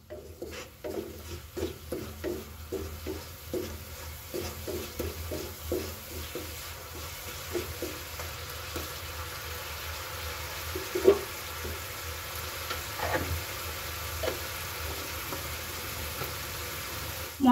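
A spice paste with salt and turmeric is stirred and fried in a pan, giving a low steady sizzle with rhythmic scraping strokes early on that thin out into occasional soft knocks.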